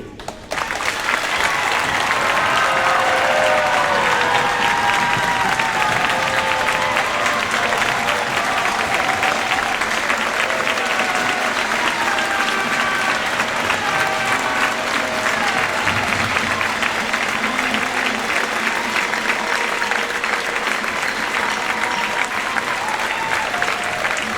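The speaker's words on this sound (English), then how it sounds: "Mr. Carlson and Mr. Balta, this round of applause is our way of saying thank you to you for all you do." Crowd at a high school marching band indoor show gives the band directors a long, sustained ovation: thick applause with scattered whistles and cheers runs strongly for over twenty seconds before easing slightly.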